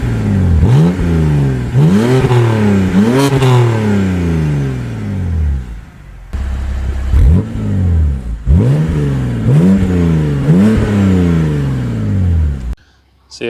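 A BMW M140i engine revs repeatedly, several loud rising-and-falling blips in a row, then pulls away and accelerates through the gears, growing quieter as it drives off.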